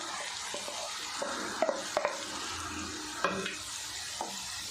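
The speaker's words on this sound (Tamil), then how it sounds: "கருப்பட்டை பாகு சேர்த்துட்டு நல்லா கலந்து விட்டுருங்க" Palm jaggery syrup being stirred into a snack mixture, giving soft wet sizzling hiss with a few sharp spoon clinks against the pan, close and without voices.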